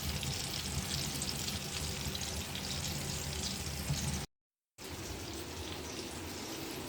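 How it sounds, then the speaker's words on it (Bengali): Pangas and rohu fish frying in a pan for a fish bhuna, a dense, continuous sizzle close by, loud and even, broken by one brief silent gap. "মাছ ভাজি করছি"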